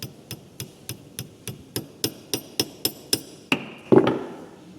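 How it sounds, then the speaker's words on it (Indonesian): An iron hammer taps a pin onto a gear shaft during ignition-system repair work, about a dozen evenly spaced sharp metallic knocks, then two heavier, ringing strikes, close and alone. "Maka ketoklah dengan palu besi."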